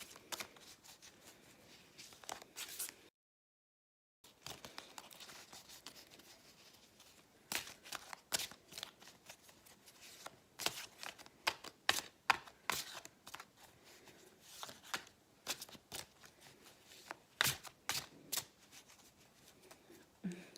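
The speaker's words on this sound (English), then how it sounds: "It's very difficult for me to shuffle these big cards." Large tarot cards are shuffled repeatedly in bursts of crisp riffling and flapping, close by, with a short silent gap early on and no talking.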